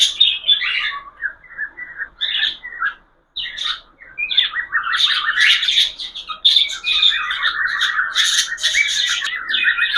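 A pair of pet budgerigars, recently recovered from illness and newly paired, chirp and chatter in bright, rapid twittering bursts close up, with a short silent gap before the calls grow busier and more continuous.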